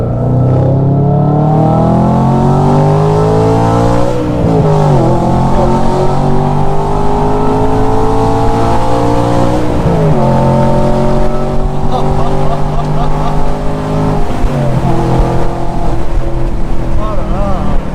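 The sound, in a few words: car engine sound decelerating after releasing throttle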